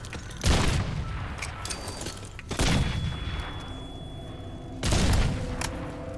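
Explosions in the video game Crysis 2: three loud, heavy blasts roughly two seconds apart, each a sharp broadband burst that rolls off into a long rumbling tail, with no talk over them.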